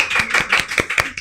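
Clapping in a podcast studio, a handful of separate claps in an uneven rhythm, close and fairly loud, with no voices over it.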